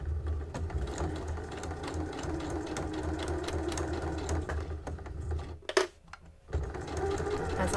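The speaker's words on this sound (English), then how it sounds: "So I'm going to needle down, lift, spin, trap and sew." Domestic sewing machine top stitching along the folded edge of a fabric gift wrap, a steady close whirring run with a short pause near the end before stitching resumes.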